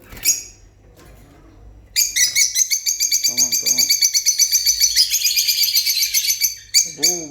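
Lovebird parrots in a breeding room chirp in dense, rapid, loud chatter close by, with a couple of short voice sounds between the bursts.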